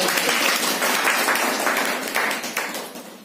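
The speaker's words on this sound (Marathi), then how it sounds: "टाळ्या वाजवा" An audience at a Buddhist community gathering breaks into a short round of applause, dense clapping that holds steady and then gradually thins out toward the end.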